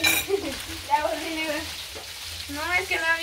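Food frying in hot oil gives a steady crackling sizzle close by, while several voices talk over it for most of the stretch.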